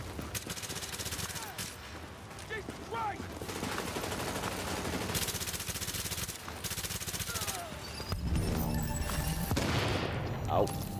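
Bursts of automatic and single-shot gunfire from a submachine gun firefight in The Division, rattling on and off across the scene with loud volleys near the end, while players talk over it.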